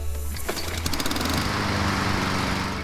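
A lawn mower fitted with a striping kit runs on a thick, dark green lawn. The engine catches and climbs to a loud, steady, close drone that carries on without a break.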